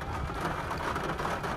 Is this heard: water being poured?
no